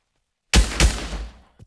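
Rapid automatic gunfire from a rifle in the VR shooter Pavlov, a short close burst of a few loud shots that quickly dies away, followed by one faint trailing report.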